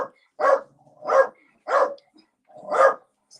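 A wee tiny dog barks indoors in a house, four sharp, separate barks spaced roughly evenly, close and loud with short silences between them and no talk.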